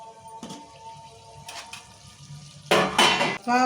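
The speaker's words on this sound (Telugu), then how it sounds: "మూత తీసి చూసుకుందాం ఇప్పుడు" Metal cooking pot lid lifted and set down while making chicken curry, a few clanking metallic knocks, louder near the end, with a faint background hum and no talk.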